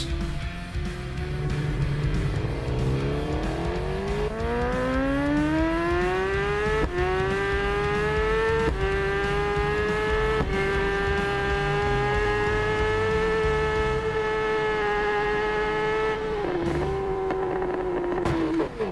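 A motorcycle engine in the Isle of Man TT 3 racing game winds up steadily under throttle, its pitch climbing through the gears for many seconds, then dips briefly and holds at a loud, continuous whine.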